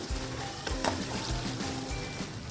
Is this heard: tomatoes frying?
yes